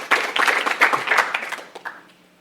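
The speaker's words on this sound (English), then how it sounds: "So maybe we give a round of applause, especially our IT, our visual support." Short burst of applause from a showcase audience, a dense patter of clapping that starts at once, holds for about two seconds, then thins and fades away.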